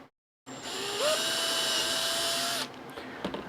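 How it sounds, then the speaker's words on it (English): A power drill bores a hole through soft magnet material during a RIFF 600 build, whirring loudly and steadily for about two seconds with a rising pitch as it spins up, then cutting off abruptly. "we'll just drill that hole through."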